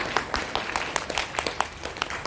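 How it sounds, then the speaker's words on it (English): A seated audience claps during a spiritual talk, a short burst of scattered, irregular hand claps at moderate loudness with no voices over it. "Please clap."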